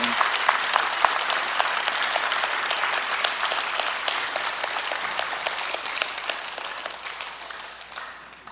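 Sustained applause from a large church congregation, steady throughout and slowly fading toward the end.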